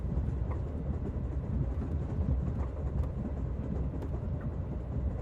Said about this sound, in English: The sounds of a running train.